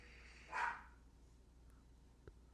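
A single short bark from a dog somewhere in a quiet indoor room, moderately loud against a low background hum, with a faint click afterward.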